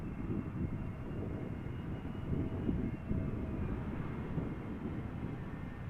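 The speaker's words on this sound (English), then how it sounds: "So this SAS Neo arriving from Oslo with the sunglasses on." An SAS Airbus A320neo arriving from Oslo at Amsterdam Schiphol makes a steady low, broad engine roar at moderate distance, holding even for several seconds with no voices.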